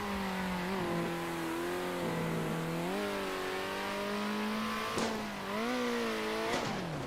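Race car engine in the video game Circuit Superstars, a steady high droning whine that rises and falls in pitch through gear changes and throttle lifts, running continuously and fairly close with a couple of brief sharp blips.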